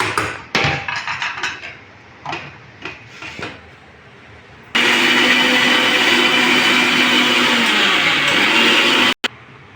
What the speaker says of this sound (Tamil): திரும்ப திரும்ப ஒரு மிக்சியில் அரைச்சிடுவோம்